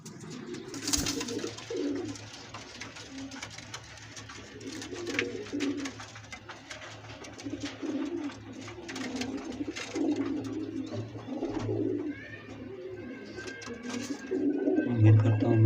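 Pigeons coo in low, repeated throaty phrases throughout, with a steady background hum and a few sharper bird sounds scattered over the top.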